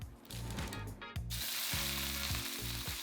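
Pork hits very hot oil in a wok for garlic pork fried rice, bursting into loud, close sizzling and frying with scraping stirs and crackle, alone without talk.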